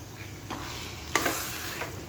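Cashews are stirred into carrot halwa frying in ghee, with a soft sizzle under a few spoon scrapes and one sharper clack against the pan, heard up close with no talking.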